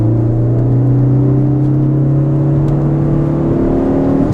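Ford Focus ST engine pulling in fourth gear around 4,000 RPM on a canyon road, a loud steady droning hum with strong tonal harmonics heard from inside the car, alone without talk.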